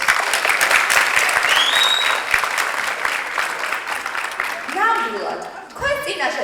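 Thunderous applause fills a hall for a Georgian ensemble's crew, loud and continuous, with an announcer's voice speaking over the clapping and cheers toward the end.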